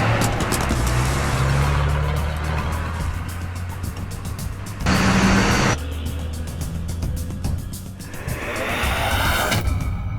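A getaway vehicle is driven during a movie robbery of a moving lorry, its engine a steady loud rumble throughout, with a brief surge in the middle and a rising rush near the end.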